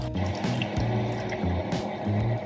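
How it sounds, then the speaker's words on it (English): Red wine vinegar poured from a tablespoon into a sauce for cauliflower buffalo wings, a steady liquid trickle and splash running close and moderately loud for the whole stretch, with no voices. "add 2 tablespoons of red wine vinegar for a little acidity"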